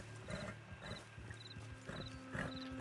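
A horse in the Red Dead Online video game clops along in a steady rhythmic gait, hoofbeats close and moderately loud over faint ambient background.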